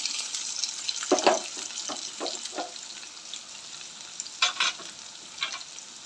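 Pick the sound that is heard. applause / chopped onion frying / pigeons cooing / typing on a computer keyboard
chopped onion frying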